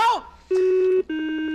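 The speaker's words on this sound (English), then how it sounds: "It went beep, beep." Puzzle in God of War Ragnarok sounding a sequence of electronic beep tones: two sustained beeps, the first about half a second long and the second following after a brief gap, loud and clear, with a short burst of speech just before them.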